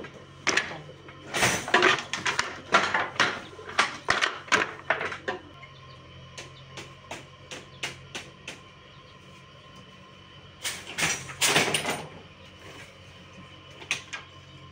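A 120-hook jacquard machine on a handloom weaving a flower pattern clatters in rhythmic bursts of wooden knocks and thumps, with a pause of lighter ticking in the middle before the loud clattering returns. Nobody speaks.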